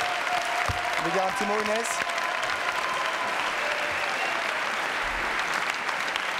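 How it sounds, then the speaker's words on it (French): Sustained applause from a television studio audience, a continuous wash of clapping throughout, with a voice speaking over it near the start. "Applaudissements pour Karine, applaudissements pour sa mère."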